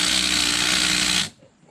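Impact wrench working on the ring gear of a Can-Am Maverick X3 during a Visco Lok upgrade, a loud steady mechanical whir that runs for over a second and then cuts off abruptly, leaving a quiet tail.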